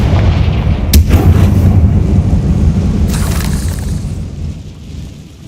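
The Confringo spell goes off in the video game Hogwarts Legacy, a loud fiery blast bursting suddenly, then a second crack a couple of seconds later, both fading into a heavy rumble.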